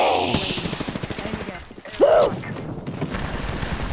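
Rapid gunfire bursts in the video game Apex Legends run steadily through the fight, close and fairly loud, with a trap nearby and people talking over the shooting.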